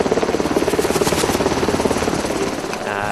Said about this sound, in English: Military Black Hawk helicopters will be providing support and additional supplies